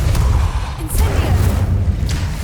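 A fire spell cast in the video game Hogwarts Legacy, a short low whooshing burst with a deep rumbling boom and crackle, loud and close, over a muddy background.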